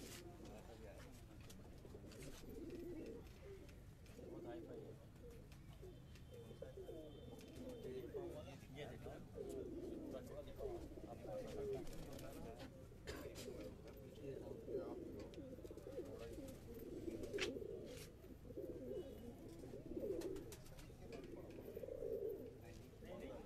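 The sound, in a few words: pigeons cooing on a rooftop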